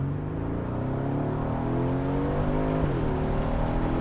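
Aston Martin DB11 Volante convertible with a V8 engine accelerating along an empty straight, a strong continuous engine roar climbing steadily in pitch, then a brief gear change partway through before climbing again.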